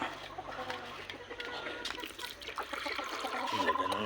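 Backyard chickens cluck softly in the middle distance while water trickles nearby, and someone talks over them at times, the clucks faint and intermittent under the voice.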